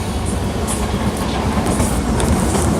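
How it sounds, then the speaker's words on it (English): Trains rumbling past close by in the UK, a steady, loud rolling clatter of wheels and cars that holds for the whole stretch with no voices. "I'm gonna wait for these trains."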